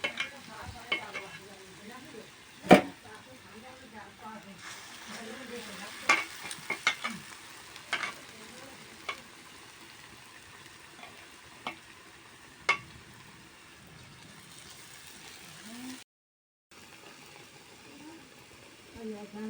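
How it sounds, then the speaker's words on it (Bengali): Eggplant fritters coated in gram flour batter fry in a wok with a soft, steady sizzle, broken by sharp utensil clinks and stirring scrapes; the whole scene stays fairly quiet, with a brief dropout near the end. "বেসনে দিয়ে বেগুনগুলো কড়াই দিয়ে ছেঁকে নিয়ে উল্টে পিল্টে বেশ ভালোভাবে ভেজে তুলে নেব"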